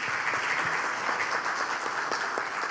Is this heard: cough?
no